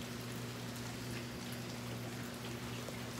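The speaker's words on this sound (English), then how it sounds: "But, like, it's hailing. Like, right now." Hail mixed with drizzle falls outdoors in a dense, steady patter of tiny impacts that holds at an even, moderate level throughout, with a low constant hum underneath and no talk.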